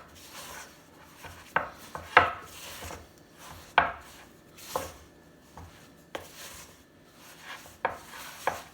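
Sourdough flour and water are stirred together in a bowl for autolyse, heard as a series of close, uneven scraping and knocking strokes of the utensil against the bowl with quiet pauses between them, no voices.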